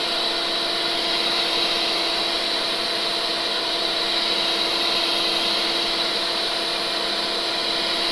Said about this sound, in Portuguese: Com a batedeira ainda no mínimo